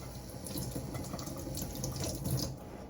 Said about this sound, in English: rinse it again.